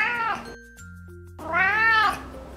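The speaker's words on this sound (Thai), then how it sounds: "แมวเบงกอลยังเป็นแมวที่ฉลาดและชอบที่จะสังเกตสิ่งต่างๆรอบตัวและมีเสียงร้องที่ฟังแล้วเหมือนแมวป่าค่อนข้างมาก" Bengal cat giving two loud, close, drawn-out meows separated by a brief pause, the calls harsh and wild-sounding like a wild cat's yowl.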